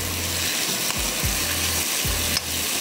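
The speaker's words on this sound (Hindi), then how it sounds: "निकालने के बाद हम इसमें प्याज डाल देंगे क्यूब्स में कटी हुई" Cubed onions fry in a pan, a steady broadband sizzle with intermittent stirring scrapes and a few low knocks, loud and close, with no speech.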